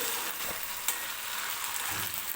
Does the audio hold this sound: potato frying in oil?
yes